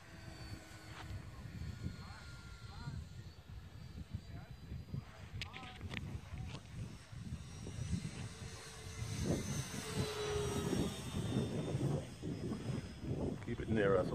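An E-flite Turbo Timber Evolution RC airplane drones in flight at a moderate distance, its propeller hum rising and falling as it maneuvers, while people talk nearby throughout.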